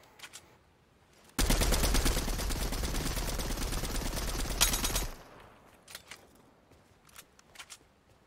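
MK7 assault rifle in the video game Fortnite firing one loud, unbroken automatic burst of about four seconds, followed by a few sparse, fainter shots.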